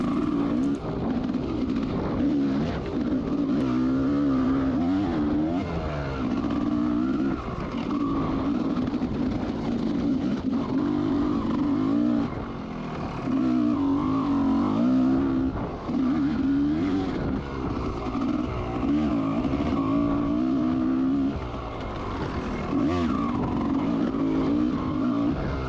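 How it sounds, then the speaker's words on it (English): Vintage race motorcycles at an AHRMA road race in Frackville roar past in a sustained loud engine drone, with rising and falling revs as bikes approach and pass, dipping briefly between machines. "Coming on the 932 bike, Greg Kemp."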